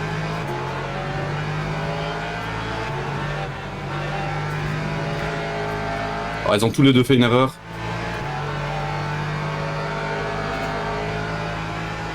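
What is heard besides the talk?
race cars driving at Spa in Le Mans Ultimate video game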